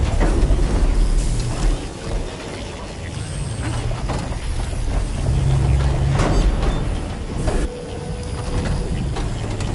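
Mechanical gears and pillars in Horizon turn with a continuous, dense clatter of grinding, ratcheting machinery, steady and close throughout, with occasional heavier clunks.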